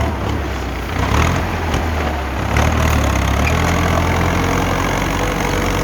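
A heavy diesel Ford tractor engine idles loudly and steadily nearby, a low rumbling chug with slight knocking, continuing without pause.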